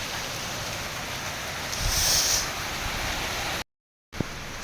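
A steady, moderately loud rain hiss fills the scene with a brief swell in the middle, then cuts to silence before resuming with a single sharp knock.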